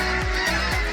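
A returning flock of geese in Richmond honks loudly and repeatedly, overlapping calls forming a dense, noisy chorus up close.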